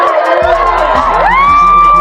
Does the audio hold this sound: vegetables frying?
no